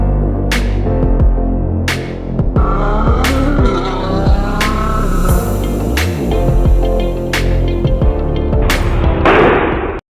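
A VW MK7 GTI with catless downpipe work underway idles and revs loudly up onto sliding Rhino ramps, engine humming continuously with sharp clunks and scrapes as the ramps shift, ending in a burst of noise.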